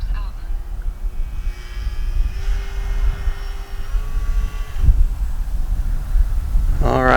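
An RC model Cessna 182 floats past slowly on a low pass like a landing approach with flaps up, its steady propeller drone holding a level tone and then dropping off, over outdoor wind noise.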